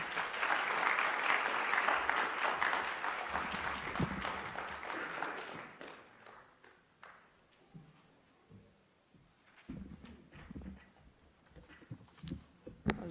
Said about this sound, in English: A big, big round of applause to Zaina Alwi,